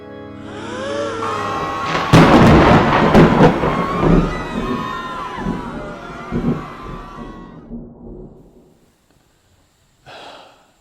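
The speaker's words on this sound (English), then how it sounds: "All right, Algie, we'll let you off the clap of thunder." A clap of thunder used as a sound effect on a TV show breaks into a loud, rumbling roll that swells, crackles and slowly fades away, followed by a short separate burst at the end.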